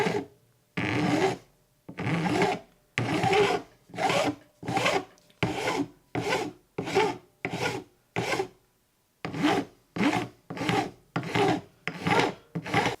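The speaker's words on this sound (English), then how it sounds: "So I've filed and sanded the side dots all the way down to the edge of the fingerboard" A file and sandpaper working side dot inlays down flush with the edge of a fretless guitar fingerboard, in repeated rhythmic rasping strokes with brief pauses between, close and clear with no voices.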